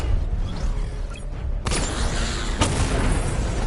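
Missile barrage from the Batmobile in Batman: Arkham Knight, a steady rumbling game mix punctuated by two sharp booming launches, one near the middle and one shortly after, with no talk.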